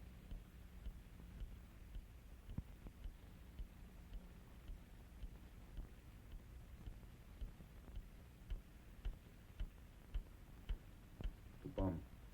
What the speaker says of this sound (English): It started ticking.